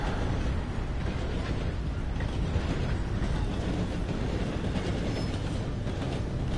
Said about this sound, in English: There's a train in the distance.